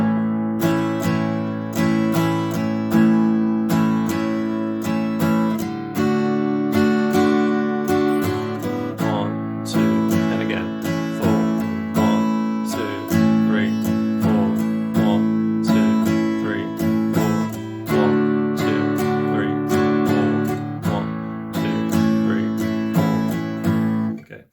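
Acoustic guitar strumming full chords in a steady four-beat rhythm, with even, continuous down-and-up strokes, played close and alone for about twenty-four seconds.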